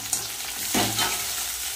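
Onion, tomato and green chilli sizzle and hiss in a pan with a brief stir partway through, steady and close without any talk.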